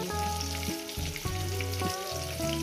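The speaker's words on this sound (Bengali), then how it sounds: "আলুগুলো সুন্দর করে আমি লাল লাল করে ভেজে নেবো" Potatoes fry in hot oil in a pan for a Bengali rohu fish curry, giving a steady, close sizzle that runs unbroken, with faint musical tones beneath.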